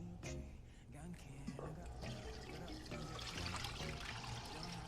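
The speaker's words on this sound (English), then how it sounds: "We're just gonna let this drain for a few more minutes before we put it in the steamer." Water drains and trickles from a batch of soaked rice set aside before steaming for homemade makgeolli, a Korean rice wine, giving a continuous close, splashy dribble for several seconds.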